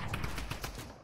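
Rapid gunfire in the Fortnite battle royale game, a quick burst of repeated shots at an even rhythm, loud and close, over a dense mix of game noise with no talk.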